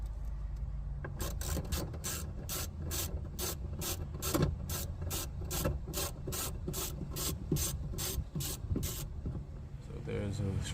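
Repeated ratcheting clicks from a screwdriver turning out screws on a car door speaker mount, a fast regular series of sharp ticks with scraping and handling noise in between, close and fairly loud.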